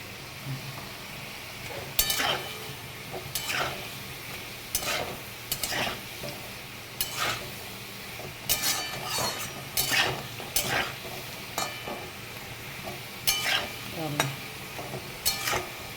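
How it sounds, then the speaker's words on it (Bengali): Potatoes fry in hot oil in a pan while a utensil stirs them, giving a soft background sizzle broken by repeated sharp scraping and clinking strokes at an irregular rhythm, with no talking. "এবারে এটি এটা নামিয়ে আলু ভেজে তুলে নিলাম"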